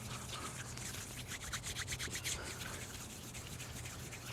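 Excess Vaseline being rubbed into skin by hand, a soft, close, rhythmic swishing friction that picks up in the middle and then fades, with no voices.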